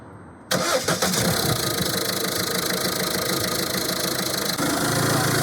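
A car engine cranks and catches after an oil change, then settles into a loud, steady running idle that continues alone to the end.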